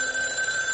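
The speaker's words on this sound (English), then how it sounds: "I take it from the way you answered the phone that you haven't heard from Mac" An old telephone bell rings steadily, a loud continuous ring that fills the short moment with no talk.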